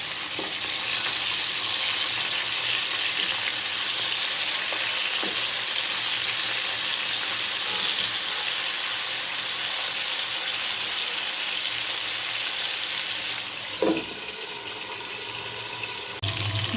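Chicken pieces fry in oil in a covered pan over medium heat, giving a steady, dense sizzle that runs unbroken and fairly loud, with no talking.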